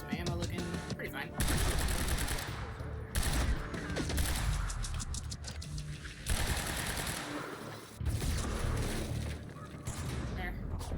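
Rapid bursts of automatic gunfire from enemies in the Quantum Break video game, dense continuous rattling with brief pauses between volleys, loud and close throughout.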